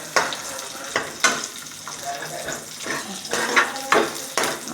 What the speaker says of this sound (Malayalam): ഇതൊക്കെ ഒന്ന് പശു നെയ്യിൽ വറുത്തിടുന്നു കേട്ടോ